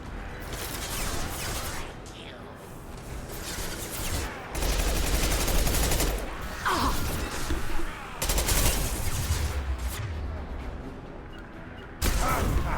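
Bursts of gunfire rattle through Mass Effect 2 combat, rapid volleys and sharp shots layered over game effects, with a voice briefly speaking amid the shooting.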